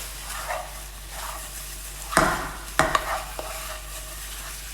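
Sliced bananas caramelising in a frying pan give a soft, steady sizzle, with a few sharper scraping stirs and taps from a utensil near the end.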